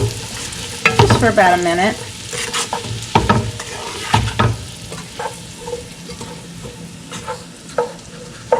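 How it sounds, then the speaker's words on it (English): Onions stirred in a soup pot, sizzling and sweating as a spoon scrapes through them in repeated strokes, with a voice speaking briefly over the cooking noise. "So I'm going to stir that around"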